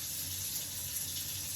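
Tap water running steadily into a container, a continuous hiss and splash close by, used to water an AeroGarden indoor growing system; no talking.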